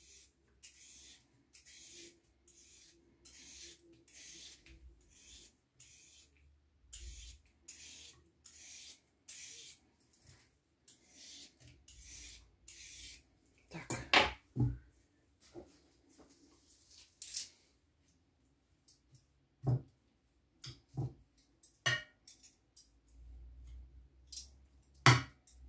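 Fresh cucumber grated straight onto a plate for an avocado salad, with quick steady rasping strokes repeating close by, then a few sparser scrapes and knocks toward the end.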